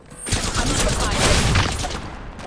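Dense, continuous volleys of gunfire in a battle-royale shooter game, loud and sustained for a couple of seconds with overlapping bursts and a brief tonal blip at the start.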